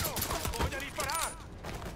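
A few quick gunshot cracks ring out early in Mafia 3, a crime-drama video game, then give way to raised, shouting voices in the scene.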